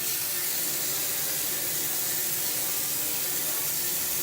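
Warm water hisses steadily from a sink spray nozzle onto a lace frontal, a constant close, broadband spray with no pauses or voices.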